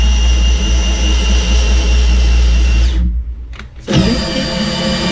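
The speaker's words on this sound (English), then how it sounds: "It takes a pretty hefty cordless drill to run these things." A hefty cordless drill drives a crafting drill with a loud, steady motor drone and whine. It cuts out abruptly for about a second, then spins back up and runs on.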